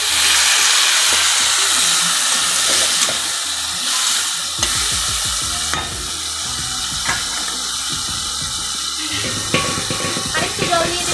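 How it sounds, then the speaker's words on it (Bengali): Water poured into a pan of frying spices for a fish curry with drumsticks and potatoes, bursting into loud, steady sizzling with crackles and stirring scrapes throughout, with no talking. "মশলা ধুয়ে জলটা দিয়ে দিব এখানে।"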